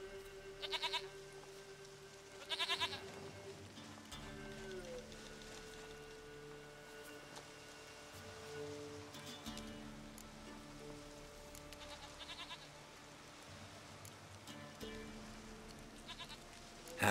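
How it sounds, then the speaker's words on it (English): Goat bleats in The Witcher 3 on Nintendo Switch, several short bleating calls scattered through the clip over steady ambient game sound with rain-like hiss and low tones. "Goat of mine, dearest, sweetest goat."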